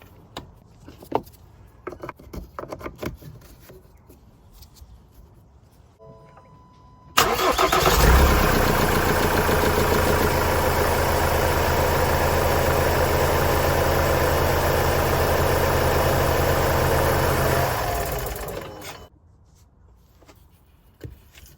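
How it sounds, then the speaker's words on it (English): A Ford Transit Custom van engine cranks and catches, then idles loudly and steadily for about ten seconds before shutting off after an oil and filter change; faint clicks and handling noises come before and after. "now we're going to run the engine, fill the oil filter"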